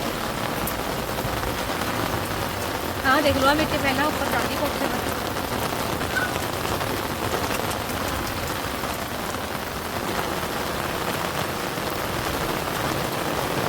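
Continuous heavy rainfall roars evenly throughout, and someone speaks briefly over the downpour early on.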